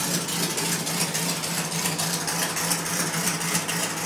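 A buggy engine runs steadily at idle, a loud, continuous mechanical drone with a low hum and rough vibration throughout, close by and with no voices.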